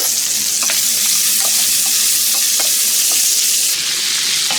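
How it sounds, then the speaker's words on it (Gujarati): Okra pieces sautéed in a pan with salt and turmeric, stirred steadily: a constant bright sizzle with scattered scraping taps of the spoon against the pan, close and alone throughout. "એને સરસ ફેરવતા રહીએ કે જેથી ભીંડા બધી બાજુથી સરસ રીતે શેકાય"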